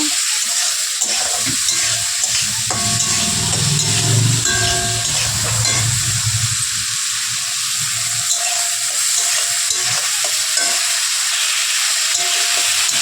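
Fish frying in oil in a pan for a Bengali bhola fish curry, a steady bright sizzle throughout with a low rumble and clatter of stirring early on, no talking.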